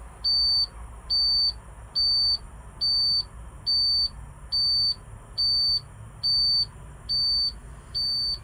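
Timer beeping during a truck air brake leak test on a black International Class A rig, ten evenly spaced high electronic beeps, loud and regular, over a faint low engine hum.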